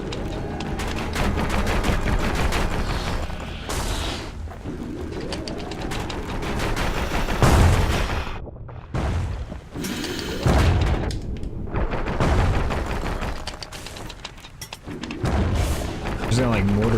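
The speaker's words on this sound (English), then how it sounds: "Just gonna like mortar shot these guys." Mortar shots fire in the action game Bastion, heavy booming blasts landing repeatedly over a dense bed of game music and effects, with a voice talking over them.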